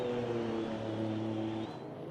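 A green Porsche race car, number 8, passing on a circuit, its engine a steady loud droning whine with a slight pitch shift as it goes by, then easing off.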